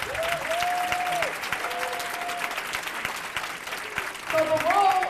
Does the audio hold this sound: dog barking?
no